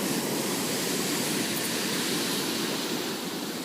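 Surf at Santa Cruz beach, with ocean waves crashing up onto the wet ground near gnarly roots, heard as a loud, continuous broadband roar of water with no talking.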